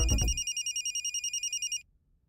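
A telephone rings in a Hindi-dubbed South Indian comedy film scene: a short sound at the start, then a rapid trilling electronic ring in one burst lasting about a second and a half, fairly loud and near, then quiet.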